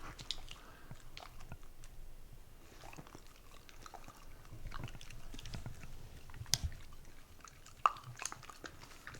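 Soft chewing and biting of food during a meal while traveling, quiet and close, with faint crunches and mouth noises and a few sharper clicks scattered through.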